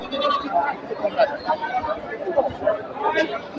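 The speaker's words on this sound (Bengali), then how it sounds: "কত সুন্দর একটা বড় ছাগল দেখেন" Goats bleat repeatedly at a busy goat market, their calls rising over the constant chatter and crowd babble around them.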